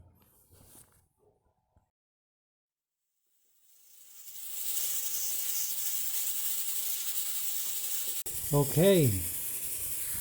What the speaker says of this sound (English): the steam is already coming out of the pressure regulator